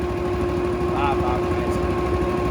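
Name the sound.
Honda small engine running tiller hydraulics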